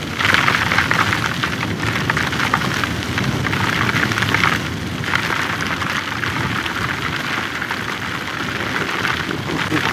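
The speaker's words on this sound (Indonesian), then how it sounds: "Iyalah, udah hujan." Steady rain falls in an Indonesian city on a long weekend, a dense continuous hiss that holds evenly at close range and drops slightly in intensity partway through, with no speech.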